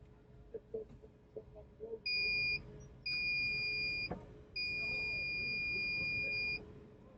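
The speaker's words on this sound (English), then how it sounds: "Oh, that beeping is super annoying." A shrill electronic beeper sounds three times, each tone longer than the last, while people talk quietly in the background, during a fault with a DC-to-DC converter and inverter setup.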